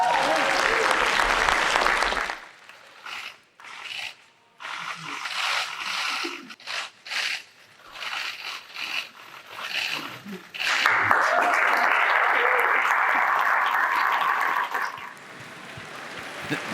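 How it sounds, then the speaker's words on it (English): Convocation audience applauding Dr. Art Laffer, a loud burst of crowd clapping that cuts off into quieter, patchy sound with scattered noises, then swells again into a strong sustained wave of applause. "Give him a big round of applause."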